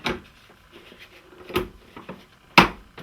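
An embroidery hoop is pushed down into a Brother embroidery machine, giving a few soft knocks and then one sharp, close click as it seats in place.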